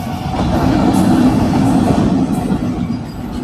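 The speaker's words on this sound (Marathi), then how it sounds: "मालगाडी थांबलेली आहे स्टेशनवर आणि एक इकडून आलेली आहे" A 45-wagon freight train rumbles steadily past a railway crossing, its loud, continuous rolling roar close by with faint rhythmic wheel clatter throughout.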